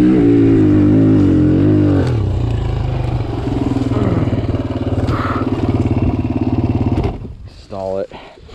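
A Suzuki DRZ 125 dirt bike engine drones and revs while climbing a hill in a sandy quarry, with loud, close buzzing held in one gear, then a sudden drop and short sputter as the engine nearly stalls.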